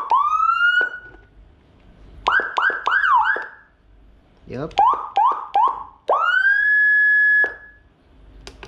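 A Whelen HHS 2200 electronic siren module cycles through loud tones: a rising wail, a burst of rapid yelps, a quick chirping pattern, then a long steady high tone. A voice briefly speaks.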